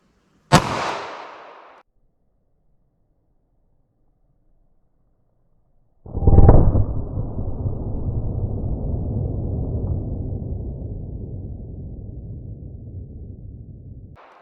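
A single .32 H&R Magnum shot fired through a baloney and fiberboard pack into a gel block: two sharp, loud reports several seconds apart, the second followed by a long rumbling decay, with no talk.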